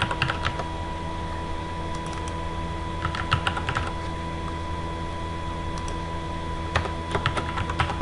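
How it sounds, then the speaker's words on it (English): A password is typed on a computer keyboard: scattered short bursts of key clicks, fairly close, set over a steady hum of room and electrical noise, with long quiet gaps between the flurries. "key in the password."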